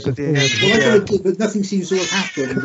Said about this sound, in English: that's my cat in the background making a noise